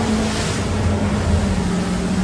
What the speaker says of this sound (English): Waves are getting a little rougher.